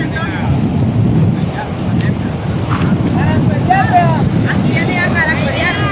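Wind buffeting the microphone over rolling waves at a beach, a steady loud roar throughout with distant voices and faint birdlike chirps above it.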